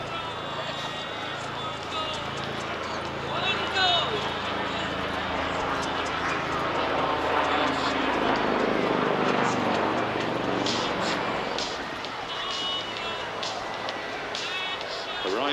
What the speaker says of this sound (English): let's welcome the Lynx AH7 helicopter.